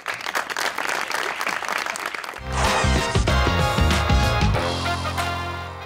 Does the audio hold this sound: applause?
yes